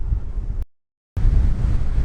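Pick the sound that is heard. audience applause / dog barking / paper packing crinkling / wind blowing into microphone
wind blowing into microphone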